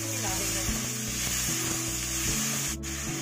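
Onions and tomatoes with salt, garlic and ginger cooking in a pan on a gas stove, sizzling with a steady frying hiss under an even low hum, close and continuous, broken by one brief sharp scrape.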